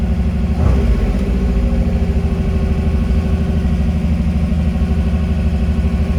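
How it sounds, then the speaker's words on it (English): A 1948 Ford Woody with a 427 side-oiler V8 idles a little high, a loud, even, throbbing rumble with light mechanical clatter, steady throughout and heard up close. "Idling a little high."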